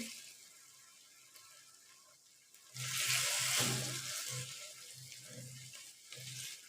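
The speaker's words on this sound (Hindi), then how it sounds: "इसमें थोड़ा सा पानी ऐड करेंगे," Water pours into a pan of simmering aloo curry with coriander, a loud splashing rush after a quiet stretch, then settling into a softer bubbling hiss, with no talk.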